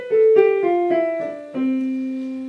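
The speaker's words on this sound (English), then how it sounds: "Major is a very happy sounding scale, sounds like this." A short run of notes stepping downward one after another, clear and tuneful, ending on a longer held tone.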